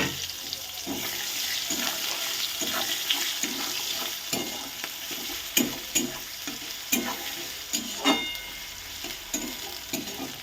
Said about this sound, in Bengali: এবার পেঁয়াজটাকে ভালো করে ভেজে নেব।